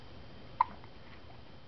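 A baby gives one short, sharp hiccup against a quiet background, brief and close.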